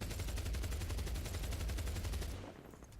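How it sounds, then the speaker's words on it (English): An AK-74U submachine gun in the Medal of Honor Beta video game fires a rapid, loud, sustained automatic burst of evenly spaced shots for over two seconds, then cuts off into a fading tail. "For the last test, I'll show you the AK-74U, the submachine gun for the insurgents,"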